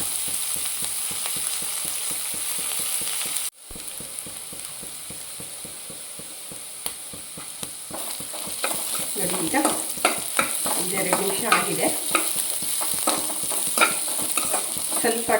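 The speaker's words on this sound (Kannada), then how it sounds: "ಈ ಥರ ಒಂದು ಎರಡು ನಿಮಿಷ ಹುರ್ಕೊಳ್ಳೋಣ ಸ್ವಲ್ಪ" Chopped onions frying in a pan, being sautéed for a leftover chapati dish; a steady close sizzle with repeated scraping stir strokes, a brief quiet break early on, then busier stirring and clatter.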